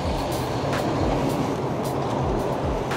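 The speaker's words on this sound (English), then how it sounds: "So we're gonna take the metro right now." Riding a metro train, with a loud, steady rumble of the carriage and wheels on the track and occasional rattles and clacks throughout.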